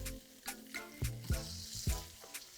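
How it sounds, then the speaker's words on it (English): Pieces of tofu hit hot oil one after another, each setting off a crackling sizzle over a steady frying hiss, close and fairly quiet. "Listen to that sizzle."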